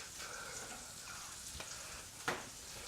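Food sizzles and fries in a pan while being stirred for homemade Big Mac burgers, a quiet continuous hiss with a couple of faint scraping knocks.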